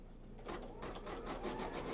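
An embroidery sewing machine stitches down an in-the-hoop chevron log cabin quilt block in black thread, its quiet, steady mechanical whir building slightly and then running evenly throughout.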